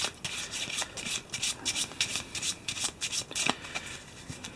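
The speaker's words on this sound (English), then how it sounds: "You can shuffle a special encounter deck here. Give it a quick shuffle." Someone gives a quick shuffle to a deck of cards from an Eldritch Horror board game, producing close, rhythmic bursts of riffling and rubbing cards in repeated strokes with no talking.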